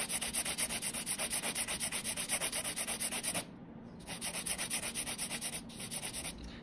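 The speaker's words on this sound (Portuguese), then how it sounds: "Vou lixar agora a ponta, tá? Já vou começar meu lixamento, vou lixar a ponta." A fiberglass nail extension has its tip filed in steady, rapid back-and-forth rasping strokes, close and continuous, with a short pause partway before the gritty rubbing resumes.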